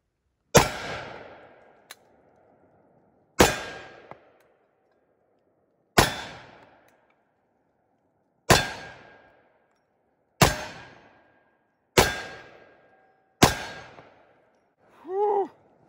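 Seven loud shots from a Magnum Research Desert Eagle .50 AE pistol, each a sharp booming crack with a decaying echo, spaced a second or two apart, followed by a short exhaled breath.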